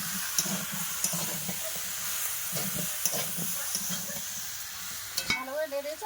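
A spoon scrapes and stirs through fish curry with cauliflower in a frying pan, an even hiss of frying steady underneath with soft periodic scrapes, and a brief clatter near the end.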